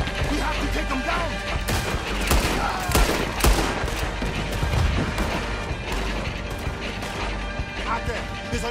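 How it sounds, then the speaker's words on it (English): Rapid bursts of gunfire crackle continuously over a dense, loud mix of explosions and clatter, with shouting voices in the background, in the video game Red Dead Redemption 2. "He's shooting."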